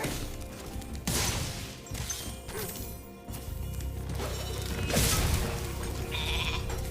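A sheep bleats a few times over a steady background of Spyro Reignited Trilogy game ambience, with occasional thuds and a louder swell midway.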